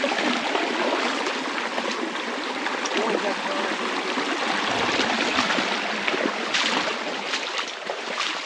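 A small stream runs down a rocky ravine where a dirt road has given out, a steady full rushing and gurgling of water close by that stays constant throughout with no talking.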